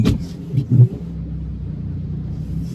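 A car rumbles along at low speed, its engine a steady low drone with a couple of brief louder thumps near the start.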